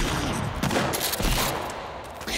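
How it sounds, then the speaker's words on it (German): Shotgun fire in the survival game Sons of the Forest, a rapid cluster of loud, sharp blasts with a rolling, crackling tail, heard without any talk over it. "Well, mein letzter Shotgun-Schuss."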